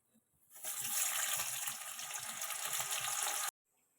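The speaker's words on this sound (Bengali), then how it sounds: "কড়াই তেল দিয়ে দিয়েছি, আমি এবার মাংসগুলো ভেজে নেব।" Chicken meat hits hot oil in a wok, breaking into a loud, steady hissing sizzle that runs for about three seconds before cutting off abruptly.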